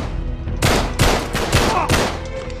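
Gunfire in the video game Uncharted 3 cracks out as four sharp shots spaced about half a second apart, loud and close, over a low rumbling game backdrop.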